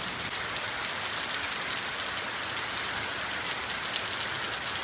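Rain falls steadily in a village, a constant even hiss of drops with no breaks and no voices, at moderate loudness.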